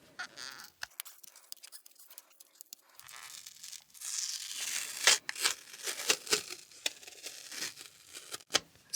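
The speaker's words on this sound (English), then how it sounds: "This is really turning into like a tape peeling ASMR video" Gaffer-like tape being peeled off a textured surface in several bursts of crackly tearing and crinkling, close and fairly quiet, with small handling clicks between pulls.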